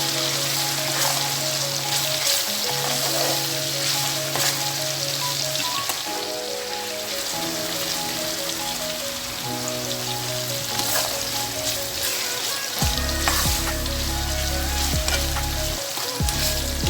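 Nigerian meat pie filling, meat with a pinch of thyme, frying and being stirred in a pan, giving a steady crackling sizzle with soft scraping stirs while music plays over it.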